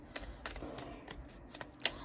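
Tarot cards are shuffled by hand in a quick run of soft riffling slaps and flicks, close by and fairly quiet, with no voices.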